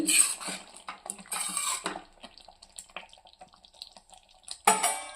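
A cooking pot of ivy gourd masala curry is opened, with a few loud metallic clanks of the lid and utensils at the start and again at the end. Quieter clinks and faint bubbling fill the middle, with no talk.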